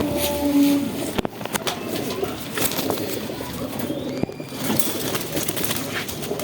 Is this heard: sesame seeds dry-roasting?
no